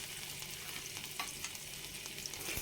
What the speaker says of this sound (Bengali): বুটের ডাল দিয়ে এবার কিছুক্ষণ আবার ভেজে নেব বুটের ডালটাকে